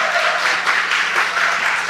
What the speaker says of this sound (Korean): 우리 박수로 한번 또 환영하시고